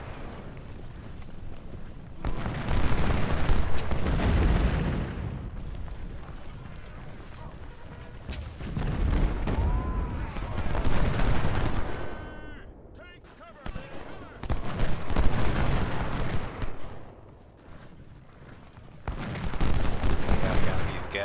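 Volleys of musket fire from flanking infantry in the Civil War strategy game Ultimate General, coming in loud bursts separated by quieter stretches, with distant crackling shots and someone talking over the action.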